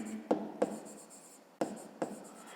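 Pen scratching across paper as a maths answer is written out by hand, four short scribbled strokes in two pairs, close and quiet with no talk.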